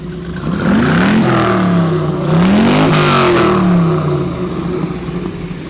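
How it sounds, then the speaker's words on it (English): A 1932 Ford three-window Deuce Coupe engine revs up twice in strong, rising surges, the rumbling motor swelling and falling back to idle, close and loud. "Rev the engine."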